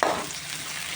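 Chopped onions and green chilies fry in a pan, giving a continuous close, bright sizzle with light stirring and no talk.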